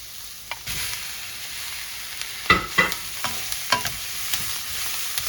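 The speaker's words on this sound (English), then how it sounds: "So what I'm going to do now is add the shrimp that I cooked earlier." Shrimp stir-fried in a pan crackle with a constant close sizzle, while a spatula scrapes and taps in uneven strokes, some louder than others.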